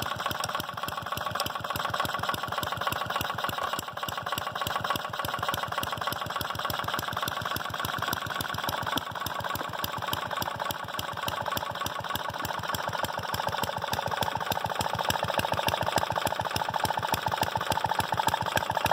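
A 1937 Briggs & Stratton Model WM small engine fitted with a homemade muffler runs steadily on its own, a loud, even, rapid firing chug that holds throughout with no voices.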